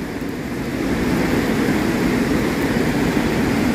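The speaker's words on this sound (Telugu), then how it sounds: "ఆ వాటర్ ఫాల్ సౌండ్." A waterfall in Meghalaya roars as a steady, loud broadband rush with no breaks, a continuous wash of falling water filling the whole stretch without voices.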